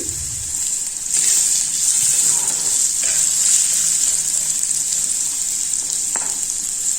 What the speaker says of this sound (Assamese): আকৌ ভালদৰে এনেদৰে লৰাই দিছোঁ।